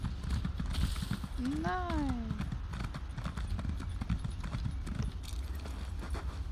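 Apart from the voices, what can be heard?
horse hooves trotting in video game The Elder Scrolls Online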